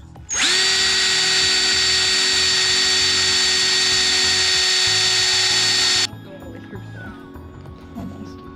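An electric power drill cuts holes in metal plate for a CB installation, starting abruptly and holding one loud, even whine for nearly six seconds before stopping, followed by quieter workshop handling sounds.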